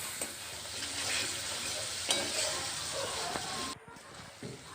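Spice masala for a soybean curry fries in oil while being stirred, a bright steady sizzle with scraping spoon strokes and a few knocks on the pan before it briefly quiets.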